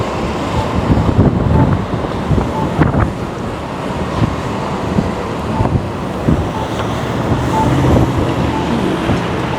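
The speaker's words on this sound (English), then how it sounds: "Yeah, the wind's really picking up." Strong wind blows outdoors on a city street in Hartford, Connecticut, a loud, steady buffeting roar against the microphone with gusty swells and faint traffic underneath.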